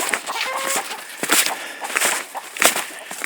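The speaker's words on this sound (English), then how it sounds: "Oh, there's the chicken." A chicken named Charlie out among the trees and garden, giving a few scattered clucks over steady outdoor background noise, with sharper bursts now and then.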